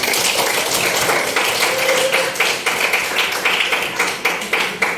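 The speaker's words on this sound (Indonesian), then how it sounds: "kita bisa tepuk tangan yang meriah sebanyak mungkin" Schoolchildren in a classroom clap their hands together in a steady, lively burst of dense overlapping claps lasting throughout, close and fairly loud.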